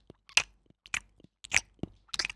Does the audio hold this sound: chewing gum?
yes